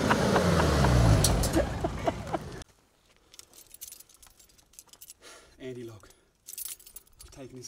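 Keys jingle in bright metallic rattles over a loud passing vehicle rumble, then quieter handling clinks follow with brief speech in a horror-film scene.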